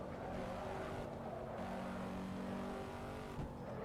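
A C7 Corvette in the game Assetto Corsa tears around the Nordschleife at high speed, its engine droning loud and sustained with shifting pitch and a brief change near the end.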